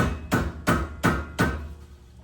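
Hammer blows on the wheel bearing of a 2008 Nissan Xterra during a repair, four loud metallic strikes in a steady rhythm, close and sharp with brief ringing between, no talk.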